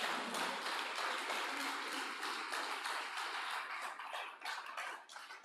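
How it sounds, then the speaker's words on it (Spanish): A church congregation applauds, with a dense wash of clapping from many hands that holds steady for several seconds before thinning and tapering toward the end. "Dale un aplauso al Señor."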